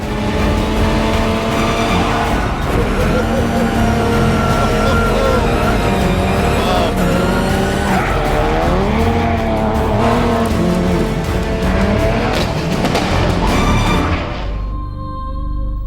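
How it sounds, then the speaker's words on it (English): A car set up to handle like a rally car on gravel, driven hard and kept balanced, engine revving loudly and continuously with rising and falling pitch, tyre noise throughout, fading out at the end. "this car has been set up to handle just like a rally car would on gravel."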